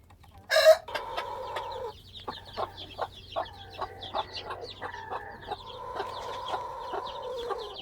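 Native Korean hen with her chicks, a close, sharp squawk at the start followed by a series of soft rhythmic clucks, fairly quiet with a low background hum and no talking.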